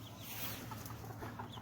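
Chickens cluck close by in a backyard winter coop where a king rooster named Legolas lives alongside several hens, the soft overlapping clucks steady over a faint background hiss.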